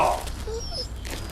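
A dog whimpers with a brief, thin whine in a quick outdoor moment, close and soft beneath a low background rumble.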